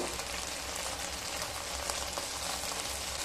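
Spices for a mouri parshe fish curry fry in a pan, giving a steady, close sizzle with a soft, rain-like crackle that runs unbroken and even in level throughout, with no voices.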